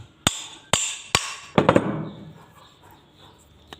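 Three sharp, evenly spaced hammer blows ring out on a refrigerator rotor under repair, followed by a quicker cluster of lighter taps that fade into quiet.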